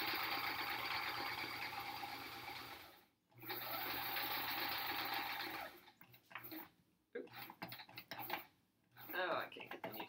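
A home sewing machine runs a long continuous stitch on the last seam of a small lap quilt, loud and steady with a brief pause, then stops and starts in short bursts near the end.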